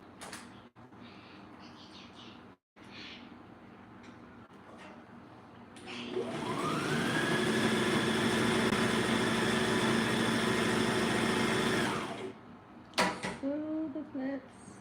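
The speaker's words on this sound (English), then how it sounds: "And then I'll sew my flaps shut." A sewing machine stitches the folded flaps of a jilbab shut, a steady mechanical run lasting several seconds at close range, with brief handling noises before and after.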